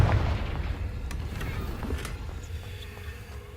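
Confringo fire spell blast in Hogwarts Legacy, heard as a deep booming burst at the start that fades into a low rumbling decay, with a few faint ticks over the tail.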